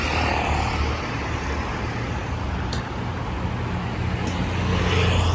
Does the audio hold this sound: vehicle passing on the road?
yes